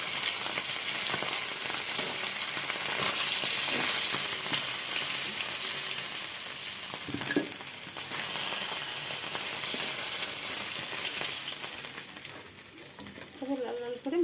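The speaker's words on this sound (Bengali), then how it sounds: "লাল লাল করে মাছগুলো ভেজে নিয়েছি বন্ধুরা" Fish pieces frying to a deep red-brown in hot oil in a pan for a Bengali dish, giving a steady loud sizzle and crackle that continues throughout with occasional stirring scrapes.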